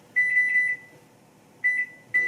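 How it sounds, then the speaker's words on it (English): A microwave oven hums faintly as it runs, then gives three quick beeps, a pause, and two more beeps, close by and alone. "you can hear the microwave probably"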